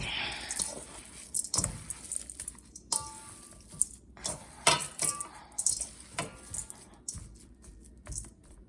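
Wet squishing and clicking of a bowl mixture for stuffed squash and bell peppers being mixed by hand, irregular squelches and light knocks against the bowl, close and fairly quiet, with no talking.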